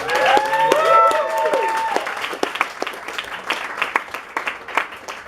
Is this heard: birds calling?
no